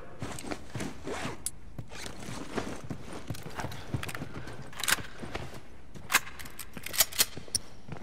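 Horse hooves clip-clop in a quiet, uneven rhythm in The Last of Us, with soft rustling of gear and a few sharp clicks and taps near the end.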